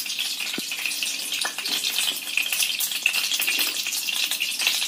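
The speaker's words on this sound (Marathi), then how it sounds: "आणि आपलं तेल सुद्धा इथे कढायला लागलेलं आहे." Oil heats and sizzles steadily in a pan for a Maharashtrian wild greens dish, a loud, close crackling hiss with small pops and no talk.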